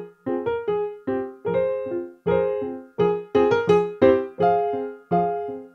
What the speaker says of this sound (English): Next, for the piano, I've loaded up the Maverick Native Instruments library